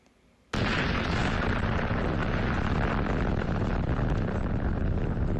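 A huge bomb explosion from a plane in a Roblox game bursts in abruptly after a moment of near silence, then holds as a loud, dense roar of noise.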